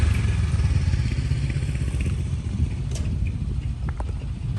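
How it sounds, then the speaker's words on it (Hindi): A small 100-125cc motorcycle passing on a street in Syria, its engine a loud, steady, close drone with some clattering and a few light knocks. "यहाँ पे सीरिया में ना मोटरसाइकिल सारे ऐसे ही देखने को मिलेंगे, 100 सीसी के, 125 सीसी के मैक्सिमम"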